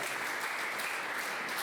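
A church congregation applauds loudly and steadily, a dense wash of clapping hands that fills the whole moment without pause.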